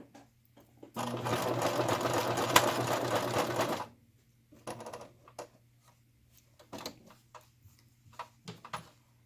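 A sewing machine stitches a zipper in place, a steady close mechanical rattle lasting about three seconds, then stops, followed by scattered quiet clicks and handling noises.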